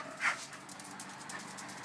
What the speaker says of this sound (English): And I have a dog.